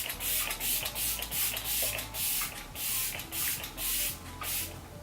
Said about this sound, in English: This is the Kat Von D Lock It setting spray.